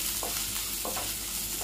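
Ginger sautéing for chutney in a pan over low heat, a dense close sizzle with a couple of quick spatula strokes in a brief stretch.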